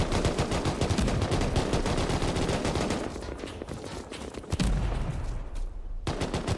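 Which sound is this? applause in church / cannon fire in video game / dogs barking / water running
cannon fire in video game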